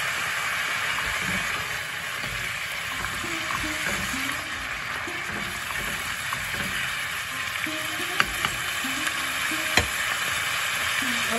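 Chopped onions fry steadily in oil in a pan while an egg cheese shahi curry is being cooked, giving a soft, continuous sizzle with a few faint clinks near the end and no talking.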